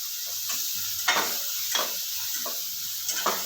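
Chopped onion and ground green chillies hit hot oil in a pan and sizzle steadily, with a spoon stirring and scraping the pan in repeated strokes up close.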